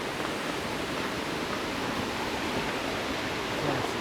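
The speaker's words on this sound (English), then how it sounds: "here you have all the waterfalls coming down" The Skradinski Buk waterfalls in Krka National Park give a continuous broadband roar of falling water, steady and fairly close, with no voices over it.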